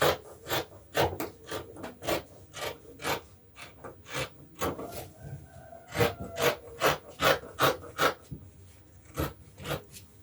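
Scissors cut through fabric along the back neckline of a kaftan gown, making a quick series of close, crisp snips and rasping slides in an uneven rhythm, with no talking.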